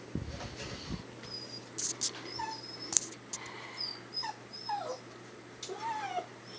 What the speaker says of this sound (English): Sorry about the dog, she won't shut up.